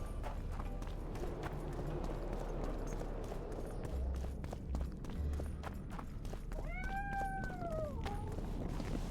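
A cat in The Witcher 2 video game gives a single drawn-out meow near the end. It sits over a busy night-time bed of ticking and footstep-like noise with a low rumble.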